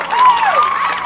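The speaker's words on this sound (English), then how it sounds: "the Moncton fans are cheering now" Moncton baseball fans cheer after a big hit in a 1992 game against Riverview, a broad crowd roar with a tonal voice or whistle riding over it, held steadily for about a second.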